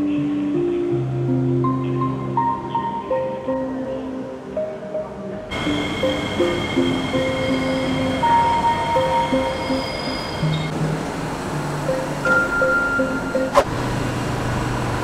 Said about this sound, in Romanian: Suntem la metrou